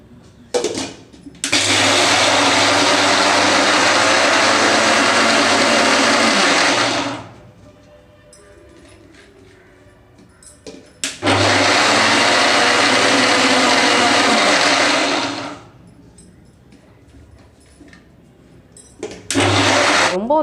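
A blender grinding dry chickpeas with no water runs in two long, loud, steady roaring bursts of several seconds each, with a quieter gap between them and a third burst starting at the end.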